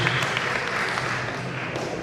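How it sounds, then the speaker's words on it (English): Audience at a Nigerian Bar Association law week event applauds steadily, a dense wash of clapping that holds even and fairly loud for about two seconds with faint murmuring underneath. "I thought a round of applause would be appreciation."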